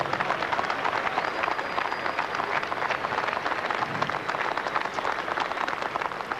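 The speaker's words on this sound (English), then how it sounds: "It's lovely to get the applause and hear the applause for a lovely, great race that this Cox Plate is." A racecourse crowd applauds after the 1995 Cox Plate horse race: dense, steady clapping and cheering from a large crowd, continuous and fairly loud throughout with no pauses.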